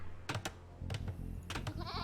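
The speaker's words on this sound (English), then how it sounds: "Goats actually, okay." Goats in the Age of Empires 2 video game bleat in short, sharp bursts, several quick cries spaced over a couple of seconds against a low game hum, with no talking.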